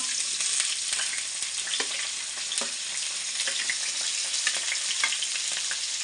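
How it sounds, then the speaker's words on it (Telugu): Onions and green chillies sizzle and crackle steadily in hot oil in a pan for a fish curry, a close, even frying hiss with small pops and occasional stirring, no one talking. "ఇప్పుడైతే మనము ఈ పచ్చిమిర్చి ఉన్న ఉల్లిగడ్డ ఇందులో వేసుకుందాం ఆయిల్లో ఆయిల్ వేసుకొని వేసుకోవాలి కాసేపు"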